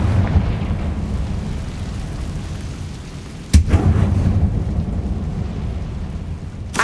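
A Confringo blasting spell explodes in Hogwarts Legacy: one sharp, loud burst cuts through a rumbling game background midway, followed by a lingering low roar and another small crack at the end.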